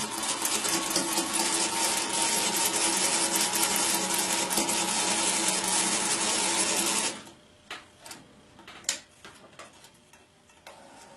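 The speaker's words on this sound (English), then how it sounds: "You turn it over, and you're going to sew right on that line." A sewing machine stitches fabric along a marked line with a fast, steady mechanical whirring chatter for about seven seconds, then stops, leaving a few soft clicks and handling taps.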